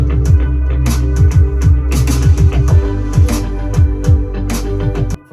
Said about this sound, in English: I did this drum fill.